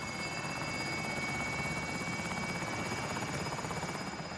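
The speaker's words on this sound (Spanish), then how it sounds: "Helicóptero, no, helicóptero." A helicopter in the Warzone battle royale game drones steadily and loudly, its rotor chop continuous and close throughout with no break.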